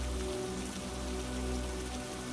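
Steady rain pattering on a surface, a continuous close hiss of drops with a low hum beneath and no voices.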